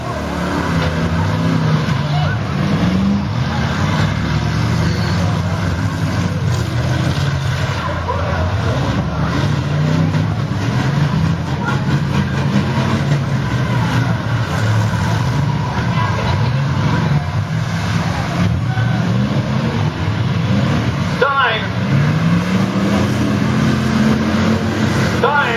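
Demolition derby cars at the Allen County Fair in Indiana, including an old Oldsmobile Eldorado, rev and grind in an arena, engines droning and rising with occasional impacts, loud and continuous under an announcer's talk.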